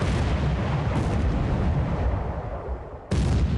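A warship suffers an internal explosion in the naval strategy game War Plan Orange: a loud, dense, sustained roar of blast and rumbling fire that fades slightly, then surges back abruptly near the end, with no talk.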